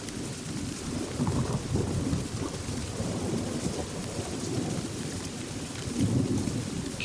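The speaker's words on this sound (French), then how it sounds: "Le troisième grondement, la troisième éclair, descend jusque dans ton ventre." Deep thunder rolls steadily beneath a constant wash of heavy rain in a full-moon meditation soundscape, the rumble swelling near the start and again toward the end, with no voices.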